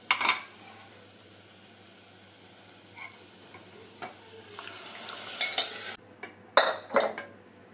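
Cooked lentils for a thick Kerala-style parippu (dal) curry are stirred in a pan, giving soft scraping and occasional spoon clinks against metal, with a louder burst of clattering strokes toward the end.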